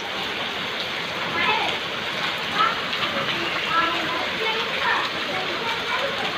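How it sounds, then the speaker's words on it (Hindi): Heavy rain in Cuttack pours down in a steady, dense hiss that fills the scene without letup, while a person speaks over it nearby and a vehicle seems to pass through the downpour. "एते जोर वर्षा"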